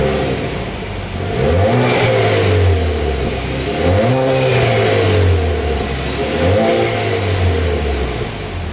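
A 2019 Chevrolet Camaro Turbo with its turbocharged four-cylinder sends up three loud, close exhaust revs, each rising and falling in pitch with a raspy drone between pulls.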